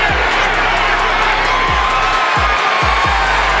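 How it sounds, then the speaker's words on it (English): Boxing arena crowd roars and cheers to encourage heavyweight Butterbean during his fight with Larry Holmes, a loud, continuous din of voices with occasional whoops and low thumps. "Butterbean, the crowd's encouraging him"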